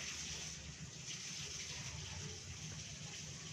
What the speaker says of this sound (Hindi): सबसे पहले थोड़ा सा पानी ऐड कर दे, पानी ये डाल देते जिससे मसाला हमारा जले ना।